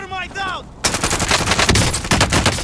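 Rapid automatic gunfire in the video game Call of Duty: Modern Warfare, a dense, loud burst of shots running continuously after a short voice opens the clip.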